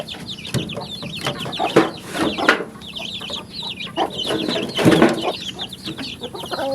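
Pet chickens cluck and chatter busily at feeding time, several birds close by making a continuous run of overlapping clucks and squawks with scattered louder calls.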